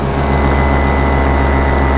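An Atom 80 model aircraft engine, freshly rebuilt and breaking in, screams at high RPM in a climb, a loud, steady, unbroken drone with strong harmonic tones and no talking.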